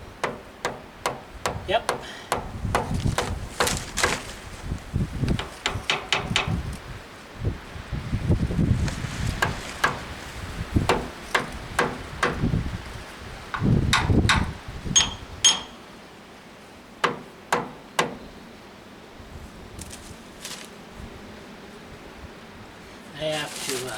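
Ford 2N/9N tractor PTO shaft being tapped into place, with several sharp metallic knocks spread through the clip amid handling noise and rustling, and someone speaking briefly nearby.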